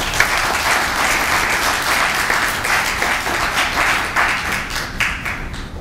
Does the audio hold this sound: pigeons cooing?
no